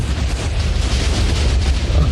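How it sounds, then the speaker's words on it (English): A nuclear explosion in Minecraft blowing up a village makes a loud, sustained rumbling roar that fills the whole stretch with dense, continuous blast noise and no talk. "We're about to create a nuclear explosion"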